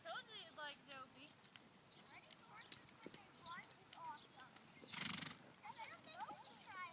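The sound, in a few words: horse hooves clip-clopping while being ridden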